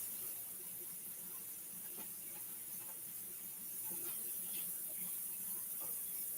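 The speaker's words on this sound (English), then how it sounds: "I'm rinsing my noodles off right now." Kitchen tap water runs steadily while noodles are rinsed, a soft even hissing stream with faint occasional clinks, fairly quiet and unbroken.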